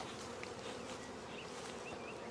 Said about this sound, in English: And we'll let these bees settle down because they're a little bit upset with us.